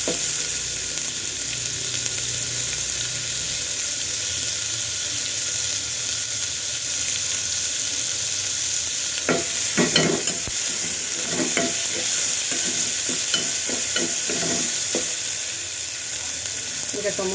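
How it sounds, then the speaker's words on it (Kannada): Onions frying in a pan for rasam until golden brown, a constant loud sizzle with scraping stirring strokes that cluster in the second half. "ಗೋಲ್ಡನ್ ಬ್ರೌನ್ ಆಗೋವರೆಗೂ ಫ್ರೈ ಆಗಬೇಕು ಈರುಳ್ಳಿ ಚೆನ್ನಾಗಿ."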